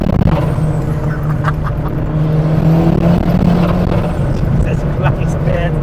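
A 560bhp Ford Sierra Cosworth on Toyo tyres accelerates hard with wheelspin, its engine roaring loudly and continuously from inside the car while the wheels struggle for grip.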